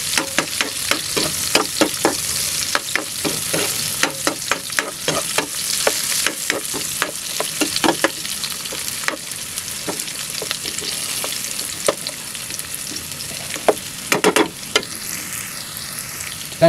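Garlic and red pepper frying in a pan for chicken neck adobo, a steady close sizzle with frequent scraping and clinking stir strokes throughout, no talking.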